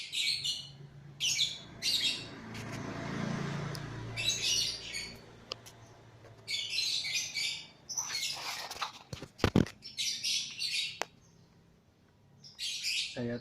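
A pet bird calls loudly inside a home, repeated bright chirping bursts in short clusters close by, with quieter gaps and a low rumbling background between calls.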